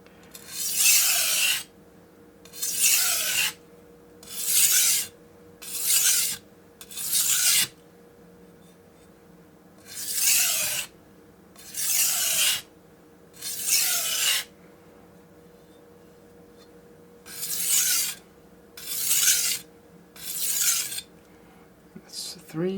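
A steel blade is stroked across a Morihei 4000 whetstone in short bursts of wet, rasping scrapes, grouped in runs of three to five strokes with brief pauses between, close and clear over a faint steady hum.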